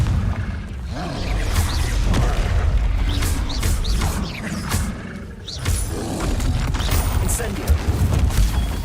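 Repeated Confringo blast spells going off in Hogwarts Legacy, a run of booming explosive impacts and crashing bursts over a rumbling low bed, with sharp transient hits scattered across several seconds and faint voice underneath.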